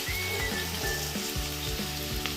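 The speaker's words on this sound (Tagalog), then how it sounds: "Unahin muna natin yung gisa itong sibuyas bawang." Onion and garlic sautéing in a hot pan give a steady, close sizzle, with a few stirring scrapes and knocks breaking through at regular intervals.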